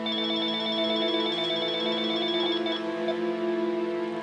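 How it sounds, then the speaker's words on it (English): A telephone rings steadily in a suburban home near Phoenix, Arizona, at night: a continuous electronic tone with sustained pitches that holds evenly for several seconds, heard alone without voices. "Maria Guerra receives a phone call."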